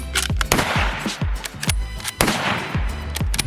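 .30-06 rifle shots fired at a target while sighting in, loud sharp reports with booming decays and overlapping echoes from nearby shooting, repeated irregularly over a few seconds.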